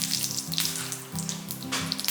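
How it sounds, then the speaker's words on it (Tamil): Mustard seeds spluttering and crackling in hot sesame oil during tempering for a ladies finger chutney, a steady close sizzle with scattered sharp pops and no talking. "ஒரு 1/4 ஸ்பூன் அளவுக்கு கடுகு போட்டுக்குவோம்"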